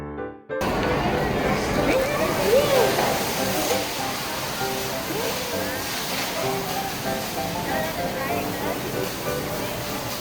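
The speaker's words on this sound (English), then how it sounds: "Now we are putting off the fire with the water jet" Steady loud rush of a fire station's water jet spraying at a fire fills the clip, a broad hissing roar with voices talking faintly underneath.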